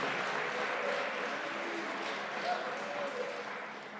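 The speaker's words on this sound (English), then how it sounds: "Give him a hand." Crowd applause at a presidential visit to a health care company in Allentown, Pennsylvania, a soft sustained clapping under voices that fades slightly toward the end.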